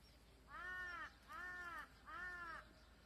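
Crows caw on a farm where green onions are grown: three loud, evenly spaced harsh caws, close and clear over a faint steady background.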